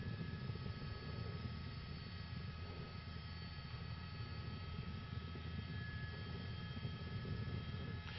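A news helicopter hovers overhead during a high-speed police chase of a Chrysler 300 driven by armed carjacking suspects in Van Nuys, its steady droning rotor and engine noise constant and unbroken throughout.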